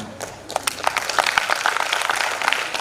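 Scattered hand claps from an audience, irregular and moderately loud, growing denser after the first half second with no voices over them.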